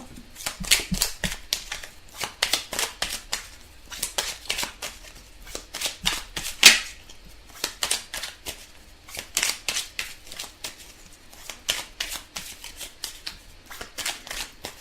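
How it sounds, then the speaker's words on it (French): Tarot cards are shuffled and drawn in a quiet room, giving repeated soft riffling and flicking bursts in an uneven rhythm, close and fairly faint, with no talking. "Alors, on va tirer des cartes."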